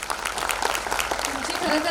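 Audience applause at a Marathi film trailer launch event, a dense burst of clapping from a crowd, fairly close and loud, lasting the full moment with background chatter mixed in.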